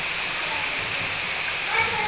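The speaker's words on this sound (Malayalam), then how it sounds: "മഴക്കൊന്നും ഒരു കുറവില്ല." Heavy rain pours outside a home kitchen during monsoon cooking, a steady, dense hiss of falling water that fills the whole moment without a break.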